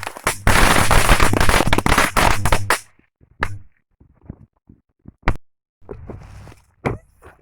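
A BB gun hits a matchbox target point blank and sets it off, and the matches erupt in a loud, dense crackling burst that lasts about two and a half seconds. Scattered pops and small crackles follow as the burning dies down.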